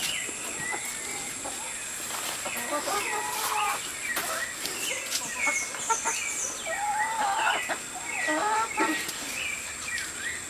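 Many chickens clucking and squawking close by, busy overlapping calls that continue throughout at a steady, moderate loudness.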